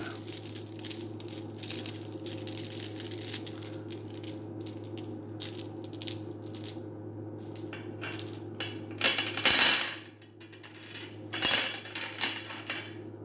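Rune stones clattering and rattling as a hand mixes them, with irregular clicks and knocks over a low steady hum, rising into a louder flurry of clinks near the end.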